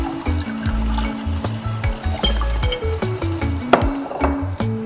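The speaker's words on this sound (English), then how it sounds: "Just gonna baste it, continue basting it." Liquid sloshes and trickles as a Jamaican pot roast is basted in its pot with added water, soft wet stirring and sizzling heard close up beneath steady background music.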